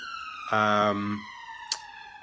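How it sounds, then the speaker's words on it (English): A passing ambulance siren wails in a single steady tone, very loud in the background, with a brief swell of a nearby voice or horn partway through and a sharp click near the end. "very loud ambulance in the background"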